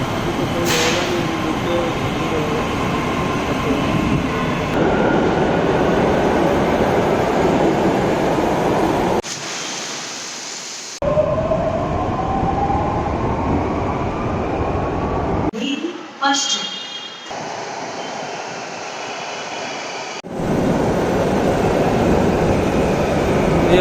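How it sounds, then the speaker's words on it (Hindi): A Mumbai Metro Red Line train arriving at a station, with a loud, steady rumble, rising wheel squeals and abrupt shifts in the noise as it pulls in. Voices talk over it. "ये आ चुकी है रेड लाइन की ट्रेन है"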